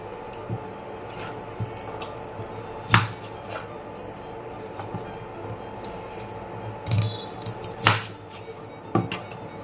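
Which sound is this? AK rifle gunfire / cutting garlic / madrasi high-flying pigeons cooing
cutting garlic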